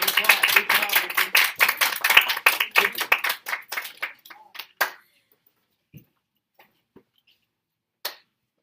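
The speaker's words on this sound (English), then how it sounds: "All right, big applause. Big applause" Sixth-grade class clapping in a classroom, a burst of quick, sharp hand claps from several people that thins out after a few seconds, leaving a few isolated claps.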